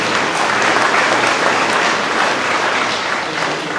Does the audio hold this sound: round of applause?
yes